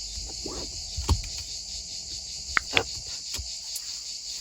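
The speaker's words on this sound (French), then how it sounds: "J'espère que le chant des cigales ne vous dérangera pas." Cicadas in summer keep up a steady high buzzing drone throughout. A person says one short word over it, and a few soft taps and rustles sit underneath.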